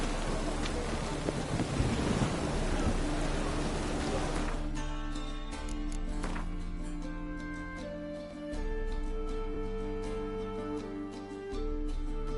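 Heavy rain and rumbling thunder in The Witcher 3: Wild Hunt roar loudly for the first few seconds, then give way to steady sustained musical tones.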